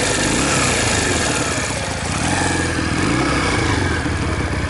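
A Romet RCR 125 motorcycle engine runs steadily at close range, a dense, constant mid-pitched drone with slight wavering in tone and no voices over it.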